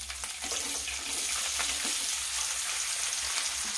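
Onions with green chillies and whole garam masala frying in a pan for egg dum biryani, giving a steady close sizzle throughout with no talking.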